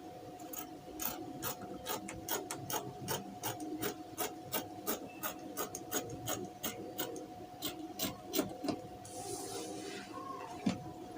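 Scissors cut fabric for a pair of shorts, a quiet steady series of crisp snips in quick rhythm, close and alone without talk.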